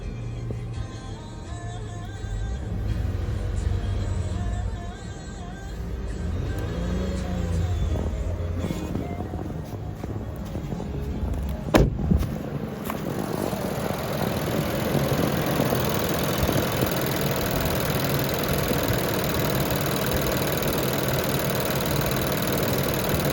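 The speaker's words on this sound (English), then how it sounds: "the mic is really picking up on the timing chain" A 2020 Nissan Pathfinder SL engine with 121,948 miles idles close by with a busy timing chain rattle running through it, plus one brief sharp knock partway through.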